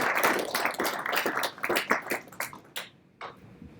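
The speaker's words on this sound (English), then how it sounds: "this round of applause will be for everybody, including yourselves for being here." Audience applause at a logistics conference, a dense burst of clapping from a room full of people that thins into scattered claps and fades out near the end.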